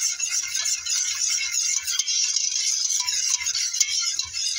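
A spoon stirring a homemade yellow mustard mixture in a pot, a steady close scraping swish carrying a hissy, sizzling texture, with faint low knocks repeating underneath and no talking.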